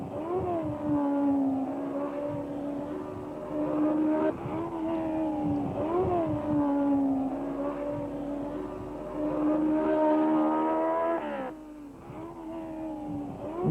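1965 Formula 1 race cars with BRM V8 and Coventry Climax engines at the French Grand Prix, a continuous high-revving engine howl rising and falling through gear changes as the cars pass.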